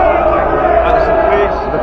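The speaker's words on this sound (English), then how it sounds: "The crowd is booing the police." Large street crowd booing police officers during St George's Day gathering in London, a continuous loud roar of many voices with steady babble throughout.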